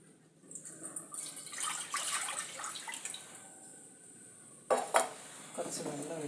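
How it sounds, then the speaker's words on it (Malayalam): Water poured into a pot set over a lit stove in a home kitchen while making uzhunnu vada, a steady rushing splash lasting a few seconds, close and fairly loud, followed by sharp metallic clanks of cookware near the end. "കുറച്ച് വെള്ളം ഒഴിച്ച് ഒന്ന് ചൂടായി വരട്ടെ."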